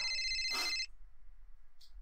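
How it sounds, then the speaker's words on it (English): Phone ringtone in the video game Grass Cutter Mutated Lawns: a bright electronic melody rings for under a second, then cuts off, followed by a brief faint chime. "My phone rings."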